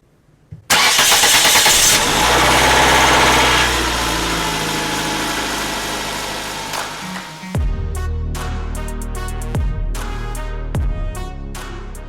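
Car engine cranking briefly, catching and roaring up loudly, then settling into a steady idle, with a few quick throttle blips late on, close and alone.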